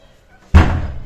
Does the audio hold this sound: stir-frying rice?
no